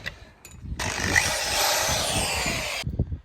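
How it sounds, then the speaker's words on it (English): A power drill whirs loudly for about two seconds, starting and stopping abruptly, close by against a quiet background. "I've got the big old drill here."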